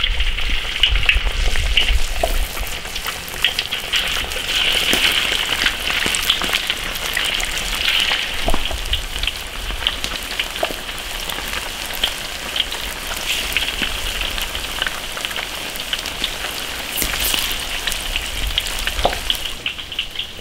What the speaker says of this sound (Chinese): 油温起的热，开始炸鱼皮。